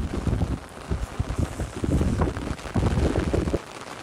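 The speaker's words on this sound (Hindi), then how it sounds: "देख सकते हैं आप हल्की हल्की बारिश अभी भी आ रही है" Rain falling outdoors during a sudden storm, a steady broadband hiss mixed with heavy, gusting wind rumble buffeting the microphone throughout.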